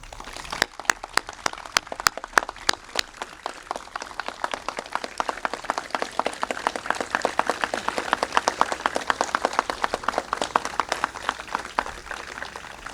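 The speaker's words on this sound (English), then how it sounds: "Please help me give a round of applause in thanking Mr." Applause from the crowd at a 9/11 memorial ceremony, a steady wash of many hands clapping for the full stretch, with a few sharp, distinct claps standing out near the start.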